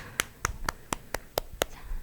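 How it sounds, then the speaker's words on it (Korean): A children's Sunday worship congregation at an elementary church service clapping in unison, seven sharp hand claps in a steady rhythm, fairly close and clear with no talking. "영광의 박수 올려드립니다"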